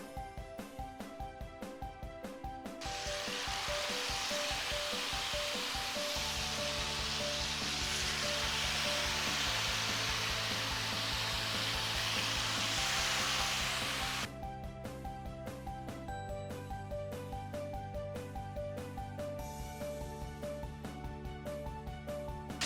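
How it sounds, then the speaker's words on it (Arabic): Breaded chicken pané sizzling loudly on a hot granite grill pan, a steady broad hiss that swells as the pieces go down and holds for several seconds before dropping back. "هننزل دلوقتي بالبانيه بتاعنا عشان نسمع الصوت المميز جدا"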